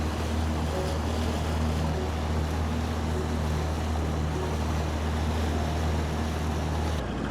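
A speedboat engine drones steadily on the Turag river near Dhaka, a continuous low hum with water and wind noise around it, loud and unbroken throughout before cutting off sharply at the very end.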